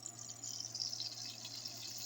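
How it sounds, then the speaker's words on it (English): Bacon fat poured into a pan while cooking ackee and saltfish, a steady soft liquid hiss and trickle with no talking. "So I had some extra bacon fat that I'm gonna pour in there."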